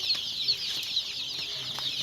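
Chickens cluck and peep continuously close by, a busy chorus of overlapping calls with a few louder notes poking through.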